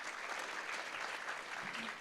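An indoor audience at a science education festival panel claps steadily and evenly, dense and sustained applause filling the whole moment without any talk over it.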